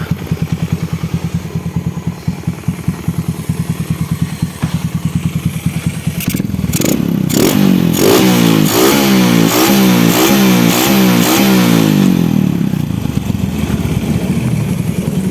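A Honda Supra X motorcycle with a 140cc bore-up engine putters at a lumpy idle, then is revved hard in repeated rising bursts, loud and close, with no voices.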